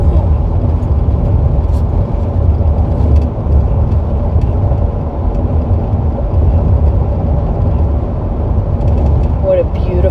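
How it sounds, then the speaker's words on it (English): A car drives up a residential street on a rainy day, its steady engine and road rumble continuous and close throughout, with faint rattles on top and no talk. "And so here we are, driving up to our new home."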